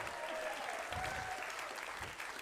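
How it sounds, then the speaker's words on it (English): Audience applause at a live comedy and magic show, a dense and steady wash of clapping filling the whole stretch. "Give them some applause."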